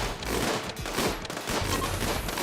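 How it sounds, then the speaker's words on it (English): Rapid crackling bursts like a fusillade of gunfire and blasts during a big explosion in the game Rimworld, dense and continuous, moderately loud with no talk. "Wow, that's a big explosion."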